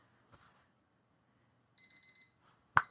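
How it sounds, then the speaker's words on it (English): An alarm clock goes off with a quick series of four bright electronic beeps, then a louder beep burst, quiet and close in an otherwise still room. "Go figure, the alarm went off."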